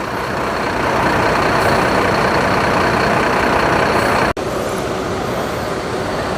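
A Hino RM 280 bus engine idles with a steady, loud, broadband rumble that holds throughout, broken by one sharp click near the end.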